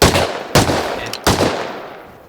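Three loud, close gunshots from the video game Rust, spaced about half a second apart, each a sharp crack trailing into a short echoing decay.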